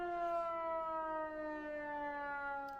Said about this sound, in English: I guess we can listen to the train siren for a bit.